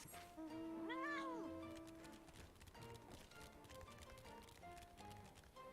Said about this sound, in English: There's my kitty cat.